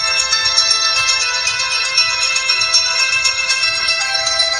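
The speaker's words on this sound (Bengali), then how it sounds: "ফোনটিতে দুইটা রিংটোন আছে" A loud, bright electronic ringtone from an Enix C300 keypad phone plays continuously, a tinny repeating melody heard up close.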